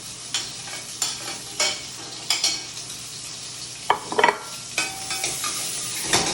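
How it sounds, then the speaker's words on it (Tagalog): Chicken browning with onions and ginger in a pot for tinola: steady sizzling with repeated scrapes and stirs of a utensil against the pot, close and clear, no talking. "Just gonna brown the chicken for the tinola."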